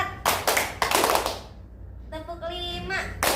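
A group of schoolchildren claps hands in a classroom counting clap game, sharp bursts of clapping separated by a teacher's voice calling out.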